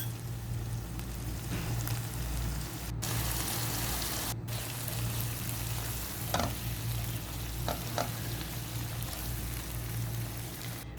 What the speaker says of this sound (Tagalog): We just mix and saute.